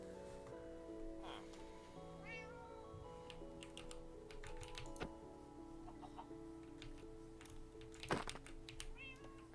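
A cat meows several times inside a Minecraft game world, short rising calls scattered over a steady low music bed, with clucking chickens and clicking keys mixed in.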